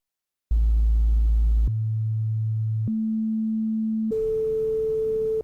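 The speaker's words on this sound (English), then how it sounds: "Here's what the first 4 audible octaves of A sound like." Four pure sine tones of the note A, each an octave above the last, sounding in turn, each steady for about a second and a quarter, loud and clean with no other sound.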